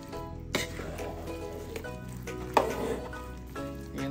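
Glutinous rice mixture stirred in a pan over a fire for a Filipino kakanin, with soft scraping and squishing strokes under a faint sizzle and a few sharp utensil knocks against the pan.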